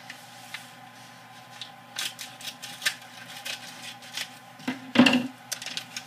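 Scissors snip through gift wrap in a string of crisp, uneven cuts, with one louder crunching snip near the end, close and without talk.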